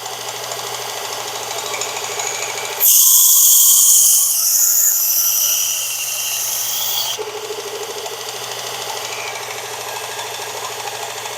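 A Work Sharp sharpener hones the edge of a Glock field knife: a motor hum is joined by a loud, high abrasive grinding pass of about four seconds, then the hum continues alone.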